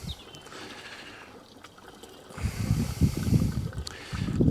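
Fuel poured into the tank of a non-running tiller rotovator engine: a faint trickle at first, then a louder, close gurgling glug of liquid running into the tank toward the end, with no talking.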